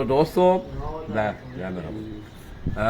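Pigeons coo softly in low, throaty bursts while people talk nearby over them.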